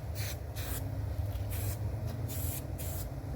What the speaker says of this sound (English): And spray it on there.